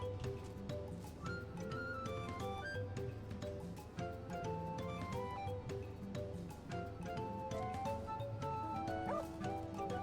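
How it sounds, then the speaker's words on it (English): A dog in the video game Final Fantasy XIV barks in the Dawntrail expansion, several short woofs set against constant game music and ambient effects, moderately loud within the mix. "Woof. There's the dog."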